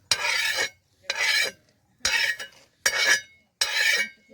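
Roasted split chickpeas scooped from a pan over a wood-fired village stove, heard as five distinct scraping, rattling scoops of about half a second each with short silences between, close and fairly loud.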